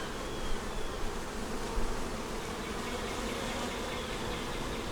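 Honey bees swarm and hum at an opened hive during a check for queen cells and brood, a dense, steady buzz filling the whole stretch at close range with no voices.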